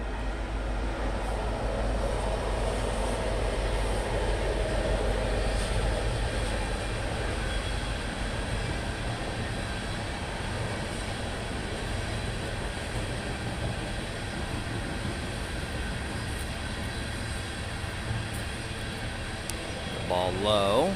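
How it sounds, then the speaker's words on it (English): A train rumbles past near an 8th-grade baseball game, a broad steady roar filling the whole stretch at fairly high level, with voices talking over it. "Here comes a train, so it's going to get loud."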